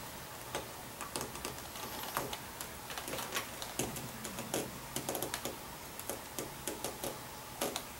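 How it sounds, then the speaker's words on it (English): A hand tool pressed hard into leather for a scissors case, marking evenly spaced stitching holes along a line, giving a run of sharp ticking clicks, some in quick clusters, close up and fairly quiet with no talk. "I'm pressing down pretty hard to make the little indentations where each hole will go for the stitching"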